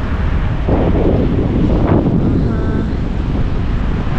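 Strong wind in Finland buffeting the microphone in a loud, continuous roar, gusting briefly stronger midway.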